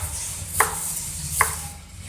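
A knife slices a carrot on a cutting board, three sharp chops spaced evenly over a low background hum, near and clear, with no talk.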